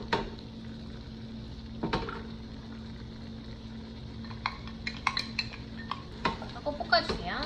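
Vegetables and minced garlic are stirred in a pot with faint sizzling under occasional utensil scrapes and clinks against the metal, growing busier toward the end.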